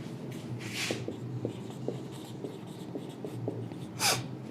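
A marker draws a fallopian tube diagram on a board in a series of short, faint squeaks and strokes at an irregular rhythm, with a couple of louder swipes standing out.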